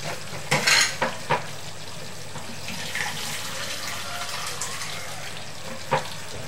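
Beef and potato curry is stirred in a pot, with a few clattering scrapes of the spoon near the start and one later, over a soft continuous sizzle.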